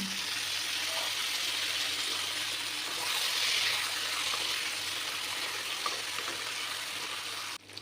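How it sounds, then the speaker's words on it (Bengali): Plantains dropped into potatoes already frying in oil in a pan, giving a steady, close, loud broadband sizzle that swells briefly in the middle and runs on without a break, no voices. "আমার আলুগুলো সুন্দরভাবে ভাজা হয়ে গেছে এবার এর মধ্যেই আমি দিয়ে দেব কেটে ধুয়ে পরিষ্কার করে রাখা কলাগুলো"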